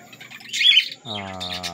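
African lovebirds in an aviary give a couple of sharp, high chirps followed by a short harmonic squawk, close and clear in a quiet space.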